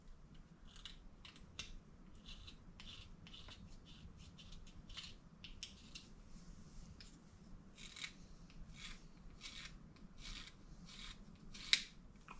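Pencil being sharpened by hand in a metal shop while marking up flat bar stock, a quiet series of short scraping strokes in an irregular rhythm with one louder snap near the end.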